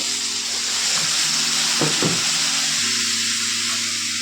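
Potato and bitter gourd dry-frying in a pan with no oil, giving a steady sizzling hiss as a spatula stirs and scrapes through with a couple of brief clattering strokes, no voices.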